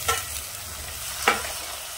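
Chopped onion and grated tomato fry over high flame in a pan for a South Indian eggplant masala, a steady close sizzle broken by two sharp scraping stirs, one near the start and one midway.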